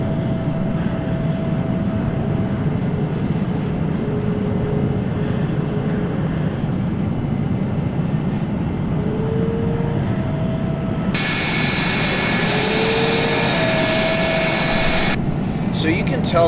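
Steady drone of an F-104 jet cruising and beginning a descent in a flight simulator game, a continuous engine roar holding throughout with a brighter high whine joining partway through.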